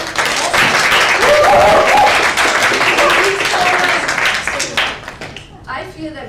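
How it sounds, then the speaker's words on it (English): Loud applause from an audience at a pitch talk, dense clapping with voices mixed in, swelling early then thinning out, with talk emerging near the end. "please give her a raving applause"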